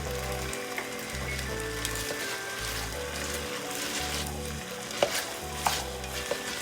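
Grated potatoes for homemade hashbrowns fry in a pan while being stirred, a continuous close sizzle broken by scraping strokes and a few sharp clacks of the utensil against the pan.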